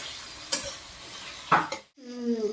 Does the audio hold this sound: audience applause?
no